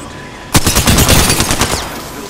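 Automatic gunfire in the battle royale shooter Apex Legends erupts after a short quiet lead-in, a loud rapid burst of repeated shots lasting well over a second before fading.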